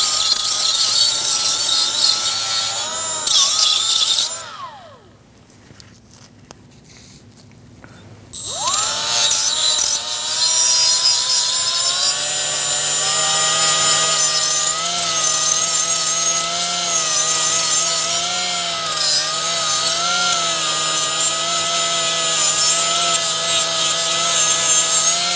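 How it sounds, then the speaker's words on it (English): Emery cloth or sandpaper worked over the wheel hub of a 2016-2019 Chevrolet Cruise during a rear wheel bearing and hub replacement gives a loud, continuous, rhythmic rasping scrape. It pauses briefly partway through and then carries on steadily. "you can obviously use some emery cloth or sandpaper."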